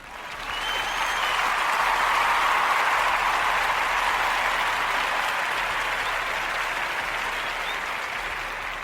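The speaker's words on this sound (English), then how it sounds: "That deserves a round of applause." A sustained round of applause from a crowd, rising quickly to a full steady roar of clapping and holding at that level for several seconds before easing slightly.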